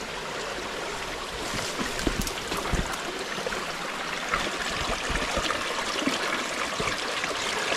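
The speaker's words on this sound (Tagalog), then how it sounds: "Napakaliit lang yung sapa namin dito. Walang malalim na tubig." A small, shallow creek trickles and babbles steadily over stones, close and continuous, with no voices.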